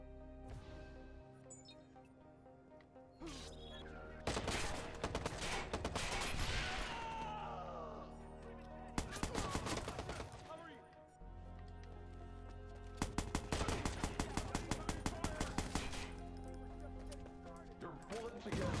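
Bursts of gunfire in the Watch Dogs Bad Blood video game, including rapid repeated volleys, come in several loud clusters separated by quieter gaps.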